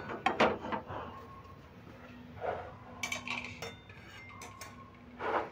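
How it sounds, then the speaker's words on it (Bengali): A metal wok (kadai) of hot oil is shifted aside on a kitchen stove while making nikuti sweets, giving a few scattered clanks and scrapes of metal against metal, close and moderately loud with quiet pauses between. "এবার তেলটা আমি সরিয়ে দিচ্ছি এই কড়াইটা।"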